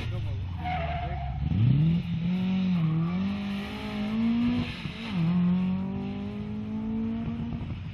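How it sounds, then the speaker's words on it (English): Classic Subaru rally car driven hard on a track at a rally show, engine revving in rising and falling sweeps as it accelerates and brakes, fairly close, with tire squeal and a commentator speaking over it. "the fans here at Rallyday being treated to a very special experience with the legend Jimmy McRae demonstrating the car out on the track"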